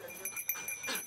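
A search-and-rescue training dog in southern Corsica gives a few short, faint whimpers and yips in quick succession, with no talking.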